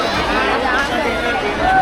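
Dense crowd hubbub at a village temple fair (jatra) for Shri Mahalakshmi in Dahanu, a steady loud babble of many voices close around with no single speaker standing out.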